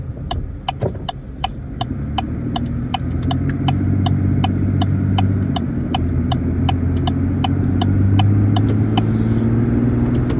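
A Chevrolet Colorado pickup drives along a road at night, its engine and tire rumble building steadily from the cabin, with a regular ticking click repeating throughout.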